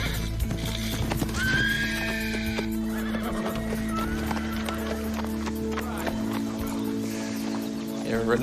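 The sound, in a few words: horse neighing and hooves clip-clopping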